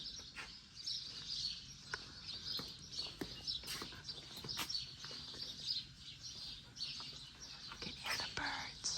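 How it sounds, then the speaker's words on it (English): Birds chirp and tweet outdoors at a nature spa in the Azores, a steady chorus of high calls continuing throughout at moderate distance, with a quiet murmur of people talking underneath. "You can hear the birds."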